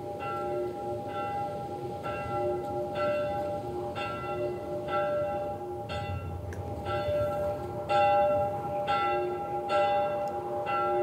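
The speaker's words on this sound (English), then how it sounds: "Like, stop with the bell." Repeated tolling of a church-style bell in The Last of Us Part 1, struck about once per second in a steady rhythm over a low rumbling ambience, ringing on loudly throughout with no talk.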